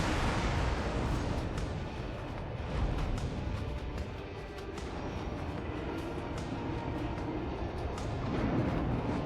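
A continuous heavy rumble from a space-station explosion in the X4: Foundations video game fills the scene, a dense roaring blast with crackling bursts that holds loud and steady without speech.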